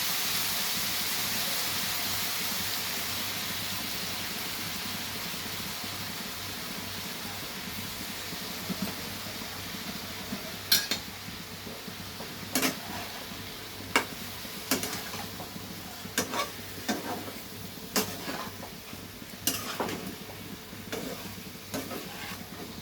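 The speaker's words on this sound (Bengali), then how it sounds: "এবার ভালো করে মশলাটা এর সাথে মিশিয়ে নিতে হবে।" Spice mixture sizzles and fries in a pan with a splash of water as a utensil stirs it, a steady close hiss punctuated by a series of sharp scraping clicks in the later half.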